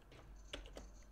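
Quiet, quick clicks of a computer keyboard being typed on, a short burst of a few keystrokes with low background hum.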